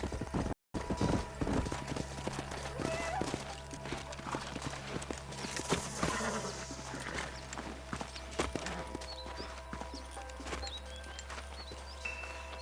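Horses' hooves clip-clop steadily across the ground in the Western video game Red Dead Redemption on Nintendo Switch. The quick, uneven beats sit close and fairly quiet over a low ambient hum, with scattered faint effects in the background.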